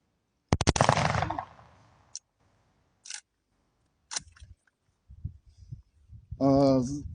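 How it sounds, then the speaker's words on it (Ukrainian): A sharp mechanical burst of rapid clacks from a BlackStorm BS-3 Professional bullpup AK airsoft rifle opens, followed by a few single crisp shots spaced apart, then a voice speaks at the end. "Одиночний постріл, перевели."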